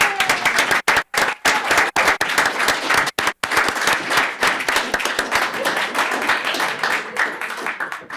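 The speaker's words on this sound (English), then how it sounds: "I'd love to give a round of applause to the whole elections team" Applause for the elections team at a county Board of Equalization meeting: a smaller group clapping with distinct individual claps, a few brief gaps early on, then continuous and fairly close.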